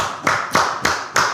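One person claps in a studio setting: four crisp, evenly spaced claps, close and clear, with a short pause between each.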